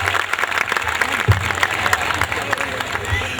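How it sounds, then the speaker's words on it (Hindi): A crowd at an ONGC Hazira plant anniversary celebration applauds the troupe's musicians, lively clapping with some cheering and a low thump or two, while voices murmur underneath. "मैं चाहूँगा हमारे ट्रूप के तमाम म्यूजिशियन दोस्तों के लिए एक बार जरा तहे दिल से जोरदार तालियां हो जाए"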